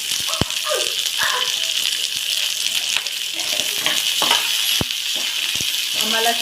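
Chopped onion frying in hot oil gives a loud, steady sizzle and crackle, with sharp clicks of a spatula stirring in the pan and a voice speaking softly under it.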